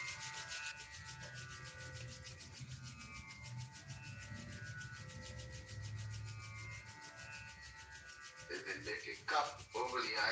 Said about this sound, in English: Rub the palms briskly.